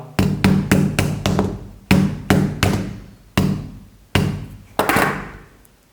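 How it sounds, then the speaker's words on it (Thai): A series of hard, sharp hammer blows on a phone screen fitted with a hydrogel protective film, about ten strikes in uneven rhythm, each a loud close impact on a hard surface with brief ringing decay. "เอาค้อนทุบแล้วเมื่อกี้นะ"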